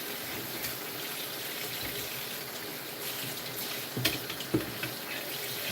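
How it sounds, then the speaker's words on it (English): Tap water runs in a steady, soft hiss while dishes are washed in hot water without soap, with a few small clinks of dishware near the end. "I'm gonna do some dishes."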